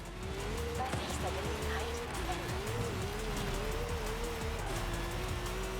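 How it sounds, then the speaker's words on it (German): A car in Forza Horizon 5 spins its wheels on a dirty surface, its engine droning in a wavering, revving tone under faint tire squeal, with voices talking over it. "Wheelspin. Drehen."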